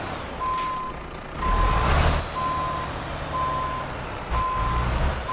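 Reversing beeps sound from a Volvo Globetrotter truck backing a trailer into a parking spot in Euro Truck Simulator, a steady run of evenly spaced tones over a low diesel engine rumble with a brief air brake hiss.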